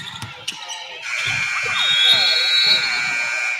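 A long electronic buzzer sounds in a school basketball gym and holds steady for a few seconds, following the squeak and thump of play on the court.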